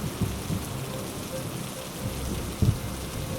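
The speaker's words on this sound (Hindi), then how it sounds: "कुछ देर बाद भयंकर तूफान आता है" A heavy thunderstorm in a night forest scene, with steady dense rain hiss throughout and low rumbling thunder rolls swelling near the start and again more loudly toward the end.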